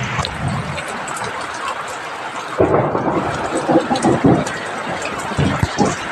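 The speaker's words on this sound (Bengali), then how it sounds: "এরকমই বৃষ্টি পড়েই যাচ্ছে এখনও।" A steady downpour hisses throughout an afternoon rainstorm, joined after a few seconds by deep, rolling thunder that rumbles loudly and irregularly to the end.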